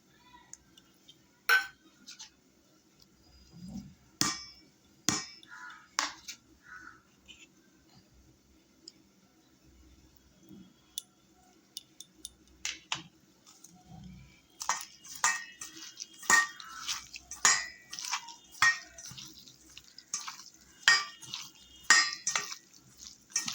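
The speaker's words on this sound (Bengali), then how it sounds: "এবারে মশলাগুলো সব দিয়ে দেবো" Ground spices, cumin, coriander, ginger, garlic and onion pastes with green chilli, go into a pan with mustard oil for a prawn and cauliflower dish, heard as scattered metallic clinks and scrapes of a spoon against cookware between quiet pauses.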